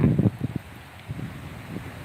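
Dry, cold outdoor wind on an 18-degree day gusts against the microphone in low, buffeting rumbles that rise and fall unevenly.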